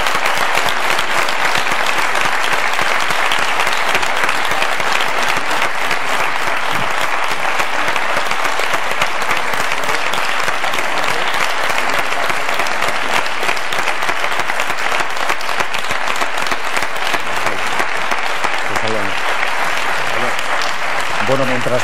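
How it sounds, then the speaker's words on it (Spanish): Sustained, dense applause from a live audience at a Spanish televised election debate between the candidates, steady and loud throughout with no break. "Así que yo creo que un aplauso para los candidatos."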